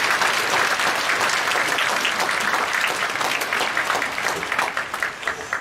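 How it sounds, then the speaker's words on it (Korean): A church congregation applauding its teachers during a special dawn prayer service, a steady wash of clapping that grows more uneven and individual toward the end. "교사들을 위해서 박수를 한번 보여주십시오"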